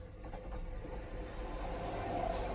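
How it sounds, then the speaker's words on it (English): A modern train rushes past a slow Soviet-era sleeper train, heard from inside the older carriage as a faint, steady rumble and rattle that swells slightly toward the end. "Looks like there's another train passing us."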